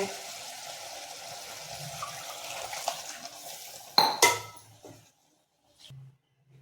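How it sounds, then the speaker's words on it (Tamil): A blender's mixer jar is rinsed and water poured out in a home kitchen during chicken curry cooking: a steady wash of running water, then a sharp clatter of the jar against metal and a brief splash before near silence. "இந்த மிக்சி ஜாரை கழுவி இந்த தண்ணியை ஊற்றி விட்டா"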